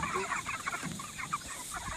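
Chickens on a rotated grass pasture cluck softly in a steady, scattered chatter at moderate distance, with a faint background hum and no talking.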